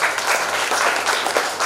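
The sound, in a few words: audience applause for the new president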